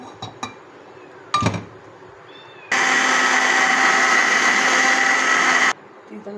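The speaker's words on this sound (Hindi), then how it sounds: "हमने इस तरह ब्लेंडर में डाल के आड़ू को जो है ब्लेंड कर दिया है" A kitchen blender runs loudly for about three seconds, whirring steadily while it purees peaches for sherbet, with a few clinks and faint knocks before it starts.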